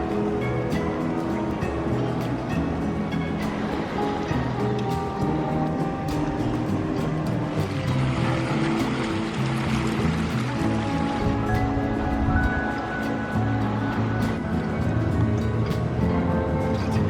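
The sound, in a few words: sea waves at a natural rock pool, Sardinia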